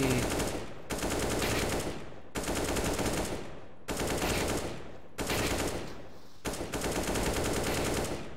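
Rapid automatic gunfire rattles in CS:GO aim practice, coming in six sustained bursts of roughly a second each with short gaps between, loud and close with no talking.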